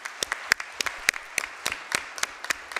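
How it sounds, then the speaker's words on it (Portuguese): Scattered, sparse clapping from an audience at a solemn chaplains' day session, individual sharp claps spread irregularly rather than a dense ovation, at moderate level with no speech. "Uma forte salva de palmas para os nossos capelães"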